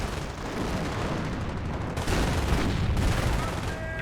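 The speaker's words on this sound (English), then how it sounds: "And now we've got the 28cm rocket barrage." A 28cm rocket barrage in the Company of Heroes strategy game, a dense continuous roar of explosions and battle noise that swells louder midway, with faint voice-like sounds mixed into the din.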